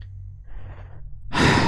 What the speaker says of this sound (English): I knew I heard breathing.